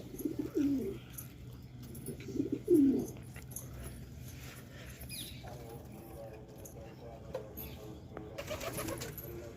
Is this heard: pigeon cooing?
yes